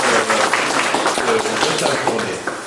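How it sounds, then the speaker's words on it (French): An audience applauds loudly and steadily at a ceremony marking the 90th anniversary of the end of the Great War, a dense wash of clapping throughout. "on applaudit bien fort l'équipe qui nous a reçus."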